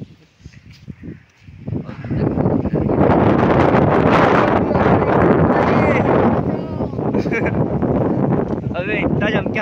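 Strong wind roars steadily during a monsoon storm, building after about two seconds into a loud, sustained rushing that buffets the microphone, with rustling over it and faint voices under the noise.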